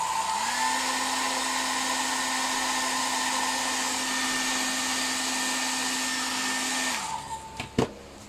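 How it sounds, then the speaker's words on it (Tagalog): A hair dryer blows steadily at close range with a constant whirring hum, then switches off and a few small clicks follow. "Meron akong dito, hair dryer."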